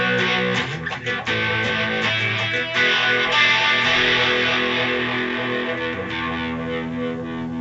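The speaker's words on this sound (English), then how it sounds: "phaser sounds good with a little distortion" Electric guitar played through a BOSS Katana 100-watt amp head with a phaser effect over mild distortion, a sustained, sweeping, swirling tone with strummed chords, loud and close with no talking.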